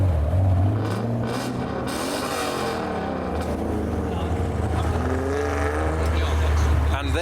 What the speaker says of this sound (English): all the 300 ZXs are leaving together as well as a trio